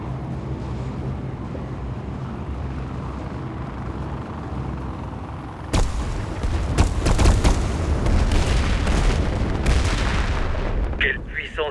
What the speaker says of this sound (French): Voyons un peu ce que ce canon a dans le ventre.